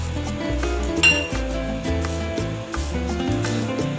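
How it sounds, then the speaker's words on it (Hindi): A fork clinks and scrapes against a bowl while mixing a homemade chocolate ice cream mixture, with repeated close taps and a brighter ring near the start. "मैं कांटे से ना क्रीम को मिक्स कर रही हूँ"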